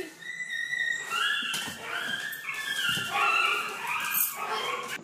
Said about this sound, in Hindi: क्यों भौंक रहा था इतना?